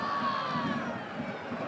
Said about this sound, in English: the crowd gets behind him